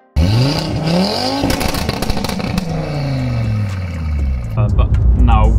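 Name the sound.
Audi TT RS MK2 five-cylinder straight-pipe exhaust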